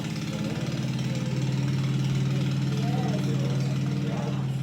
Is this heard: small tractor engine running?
yes